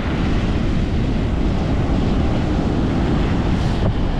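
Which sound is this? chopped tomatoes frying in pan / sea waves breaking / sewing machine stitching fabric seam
sea waves breaking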